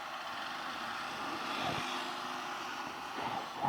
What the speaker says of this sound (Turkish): Dayılar bir geçsin, Şu motorla da geçsin.